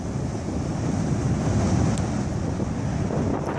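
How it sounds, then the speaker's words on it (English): Strong wind during a tornado roars continuously and close, buffeting the microphone with a dense, rumbling rush that never lets up. "It's getting pretty windy out here."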